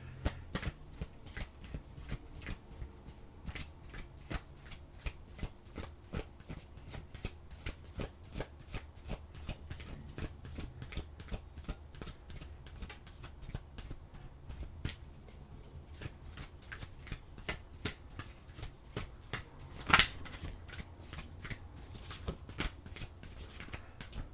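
A deck of oracle cards gets shuffled close up. The soft, crisp riffles and taps repeat steadily throughout with no talking, and one sharper snap stands out near the end.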